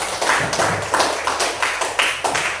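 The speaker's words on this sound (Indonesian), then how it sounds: "Tepuk tangan dulu." Students in a classroom clap in unison in a brisk, even rhythm of about a dozen close, loud beats, with no talking over it.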